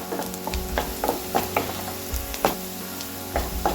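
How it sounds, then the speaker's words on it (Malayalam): A ground spice and coconut paste for korma is sautéed in a pan, giving a low sizzle broken by repeated scraping stir strokes in an uneven rhythm, close and fairly quiet, with no one talking. "ഇതൊന്ന് ചെറുതായിട്ട് നിറം മാറണ വരെ നമുക്കൊന്ന് വഴറ്റി കൊടുക്കണം"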